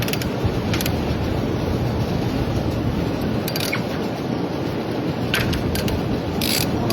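A ratchet fitted with a 12mm socket works a bolt on the rear sprocket of a 2003 Honda Shadow 750 Spirit, giving sparse, sharp clicks over a loud, steady wash of background noise with no talking.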